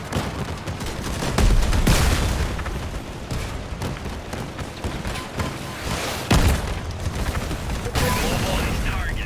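Gunfire and rocket explosions in a shooter video game, with dense continuous shooting and heavier blasts near two and six seconds, under talk.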